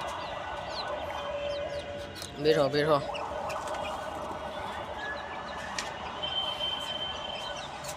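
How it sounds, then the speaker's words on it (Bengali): Chickens released from their coop in a rainy village yard give a short burst of loud clucking midway, over steady outdoor background noise, with a brief spoken command. "তবে চলুন মুরগিগুলোকে ছাড়ি"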